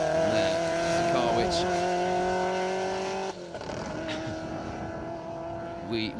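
A rally car passes close by on an asphalt rally stage, its engine loud and steady with a brief rise and tyre squeal before the sound drops away, over faint background talk.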